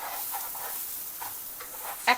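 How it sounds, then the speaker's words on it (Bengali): Rice fried with spices in a pot for Afghani pulao, with a soft, continuous sizzle under scraping stirring strokes and a sharp metallic clink near the end. "চালটা ভাজা ভাজা হওয়ার সাথে সাথে"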